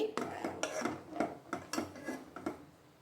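Spoon stirring lotus seed payasam after powdered lotus seeds and nuts go into the pot, with a series of close metallic scrapes and clinks against the pot at a steady, uneven rhythm.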